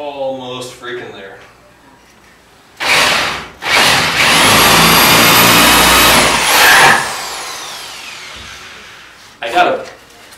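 A power drill turns a cheap Harbor Freight spade bit into wood in one short burst, then a longer, loud, close whine, with a person talking before and afterward.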